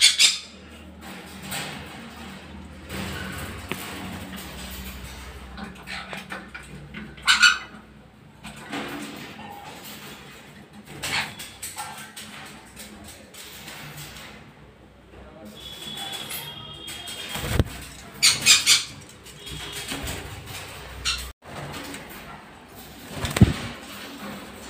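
Colourful pet birds let out sharp, loud squawks in scattered bursts, some close together and others spaced apart, over a steady background of someone talking.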